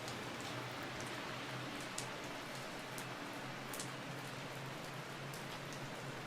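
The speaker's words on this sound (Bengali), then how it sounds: "বাইরে বৃষ্টি হচ্ছে ঠিকই" Steady rain pours down outside a train, without pause, an even hiss with occasional louder drips and a faint low hum underneath.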